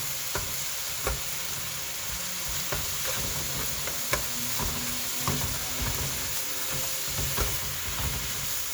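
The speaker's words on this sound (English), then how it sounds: "You start hearing it start to caramelize" Bulgogi beef and onions sizzle and fry in a hot pan, giving a steady close hiss with occasional faint scrapes and clicks as the mix is stirred, and no voices.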